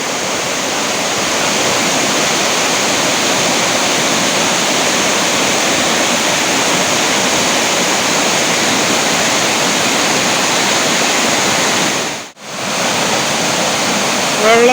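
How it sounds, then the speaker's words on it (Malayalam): Choriyankunnu waterfalls pour in a loud, dense, unbroken roar of rushing water heard up close, with a brief dip near the end. "നല്ല അടിപൊളി വാട്ടർഫാൾസ് കൂടെ"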